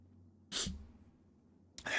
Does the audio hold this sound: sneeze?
yes